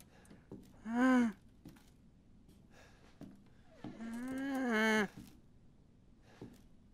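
Cows moo in Resident Evil 7, two long tonal calls, the second longer and rising, heard clearly over quiet background with soft clicks between.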